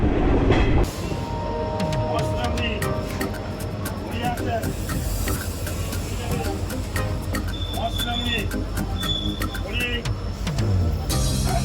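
A passenger train running from Kolkata toward Bishnupur, with a steady loud rumble, rattling carriages and clicking wheels throughout, heard from inside, with voices faintly underneath.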